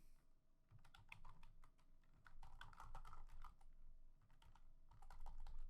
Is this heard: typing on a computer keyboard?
yes